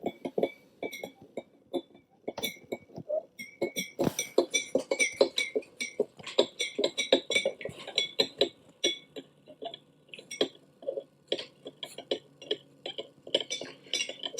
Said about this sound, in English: We're going to try and stir it in until as much of it dissolves as possible.